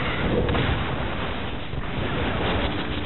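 Shrapnel artillery fire in the Halo Wars video game on the Frozen Valley map: a dense, continuous rumble of booming blasts, loud and muffled, with no clear breaks.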